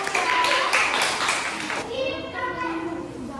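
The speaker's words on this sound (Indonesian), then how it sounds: "Tepuk tangan untuk kelompok naga" Primary school classroom children clapping together for the dragon group, a quick burst of rhythmic claps mixed with young voices, followed by someone talking as the clapping fades.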